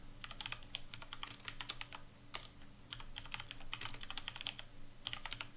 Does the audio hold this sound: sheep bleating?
no